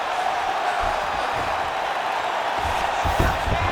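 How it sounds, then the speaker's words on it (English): Crowd at an MMA fight roars and cheers as two grappling fighters get back to their feet, a steady dense wall of noise with a slight swell near the end. "big pop from the crowd as they get back to their feet"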